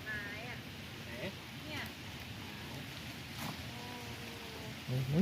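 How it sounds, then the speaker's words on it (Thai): Heavy rain pours steadily outdoors beside a pond during a fish release, a continuous wash of hiss under voices talking nearby. "ยังไม่มีทีท่าว่าฝนจะหยุดเลย"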